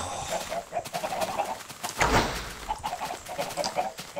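Chickens in the video game Minecraft clucking and cooing in short repeated calls throughout, with a louder burst near the middle, fairly close and with no talk over them.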